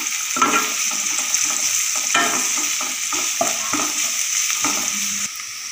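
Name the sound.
chopped onions frying in oil until light brown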